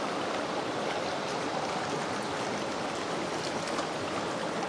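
A river rushes and burbles steadily, a dense close wash of flowing water that stays even throughout with no voices.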